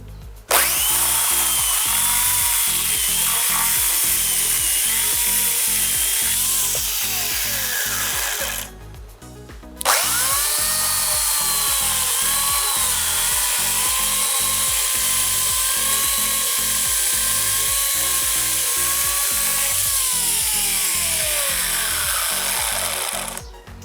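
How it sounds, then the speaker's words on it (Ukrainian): A repaired electric chainsaw's motor whines continuously at high pitch, cutting out briefly for about a second before starting up again and running on steadily. "Ну що ж, як ми бачимо, пилка працює."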